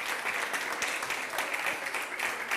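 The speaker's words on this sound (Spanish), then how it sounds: "Un aplauso para Mónica" A studio audience on a talk show claps continuously and fairly evenly, a dense burst of applause welcoming a guest onto the stage.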